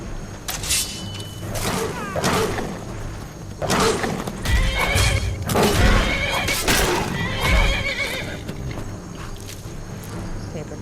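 Horse neighing repeatedly in Skyrim, several loud whinnies spread across the stretch, mixed with hoof clip-clop and footsteps, and a voice talks over parts of it.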